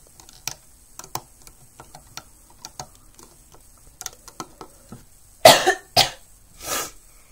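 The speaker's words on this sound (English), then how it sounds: "I'm going to stop talking so that I don't have to keep coughing" Someone coughs three times in a row, harsh and close, after a stretch of faint clicking from making a Rainbow Loom bracelet; no talking.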